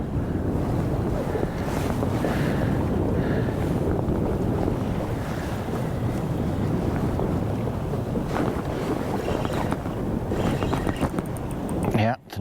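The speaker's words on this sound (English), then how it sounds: "It's a very windy day." Strong wind roars and buffets the microphone on a very windy day aboard a fishing boat, a loud constant rush with water washing beneath it and no break until it cuts off at the end.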